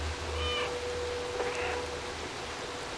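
A cat meows in the video game Stray, with a couple of short, faint harmonic calls over a steady rain-like ambient background and a low hum, with no talking.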